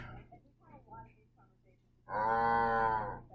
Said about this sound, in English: Alexa, what sound does a cow make?